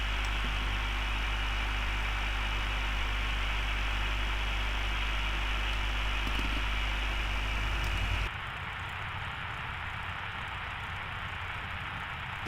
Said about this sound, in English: Okay, let's get that port engine started.